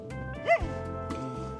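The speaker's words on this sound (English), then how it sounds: "This is a Greenland Husky." Greenland Husky dogs in a large outdoor dog area, with a few short yips and one sharp bark at moderate distance, faint, over a low steady background.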